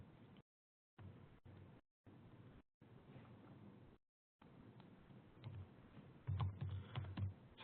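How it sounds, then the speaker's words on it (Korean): Keys clatter in quick irregular bursts on a computer keyboard as a translation is entered in SDL Trados Studio 2017, with short silent gaps between runs and a louder, denser flurry of strokes near the end. "이렇게 번역 입력을 하고 그 다음에 컨트롤 버튼 누르시고 엔터 버튼을 누르시면"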